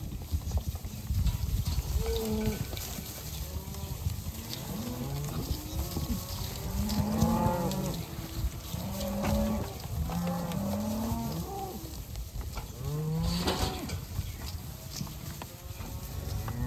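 Cattle mooing and bellering during calf weaning on a farm, many overlapping long moos from several cows at varying distances, loud and near, with faint hoof clatter underneath.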